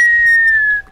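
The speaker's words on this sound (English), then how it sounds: "You're playing him off with the whistle." Someone in a gaming chat whistles a single long note to play another player off. The tone is loud and close, held steady, then tails off and dips slightly at the end.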